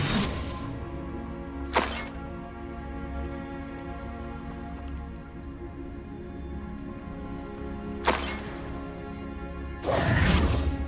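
Fiery Confringo blast spells in Hogwarts Legacy burst out as sharp crackling whooshes, about three of them spread apart, the last one longer and roaring, over a steady droning music bed.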